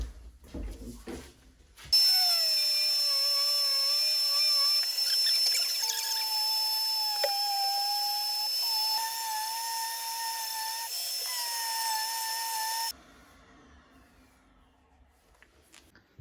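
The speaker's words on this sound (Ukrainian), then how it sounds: "Зараз будемо шліфувати. Ось так виходить починаємо полірувати." A steady, high-pitched power sander whine runs continuously for about eleven seconds, shifting pitch slightly as it sands and polishes a furniture board for bathroom furniture, then cuts off abruptly.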